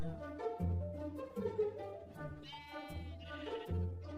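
Sheep bleating in Minecraft, several short nasal bleats spread over a few seconds, moderately loud over background game music.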